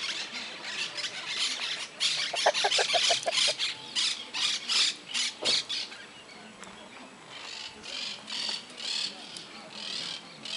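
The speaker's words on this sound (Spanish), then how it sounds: "unas gallinas por acá." Hens at a countryside farm let out a run of squawks and rapid clucks in a short cackling burst, then keep up pulsing calls at a moderate distance. Farmyard background noise runs underneath.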